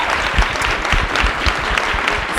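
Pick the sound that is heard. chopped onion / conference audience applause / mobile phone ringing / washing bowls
conference audience applause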